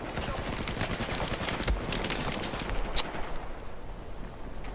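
Gunfire in the shooter Battlefield 4, a steady rattle of distant automatic shots and crackling bursts with a brief high ping partway through, mid-level and continuous.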